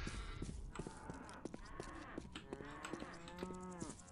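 Zombie cows in Postal 2 Apocalypse Weekend moo over and over, several long drawn-out bellows overlapping one another at close range against a busy game background, with no talking.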